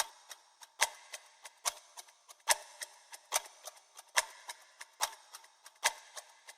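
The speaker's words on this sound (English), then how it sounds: "Also carried over from the first section of the song is the clock ticking sounds." Clock ticking sounds in a music track form a steady rhythmic pattern of crisp ticks at an even, moderate tempo. They come in alternating louder and softer clicks, with nothing else heard between them.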